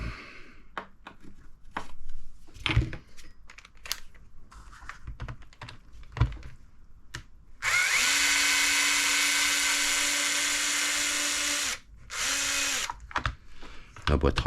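Power drill unscrewing parts from a Traxxas Stampede 4x4 RC car chassis, running in two sustained whirring bursts amid clicks and handling noises, with a little talk nearby.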